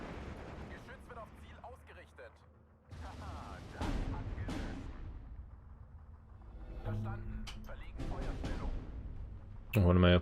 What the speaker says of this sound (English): We do have pretty decent artillery coming in there.